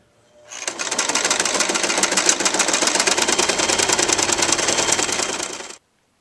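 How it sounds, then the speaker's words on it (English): A sewing machine stitching fabric along a seam runs at a steady, fast mechanical rattle, close and loud, starting abruptly and stopping cleanly after about five seconds. "I'm going to sew them together along that seam"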